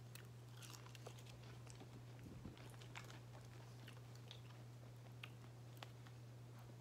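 Soft, close chewing and crunching of chicken McNuggets sits over a steady low electrical hum, with faint bites spread through a quiet room.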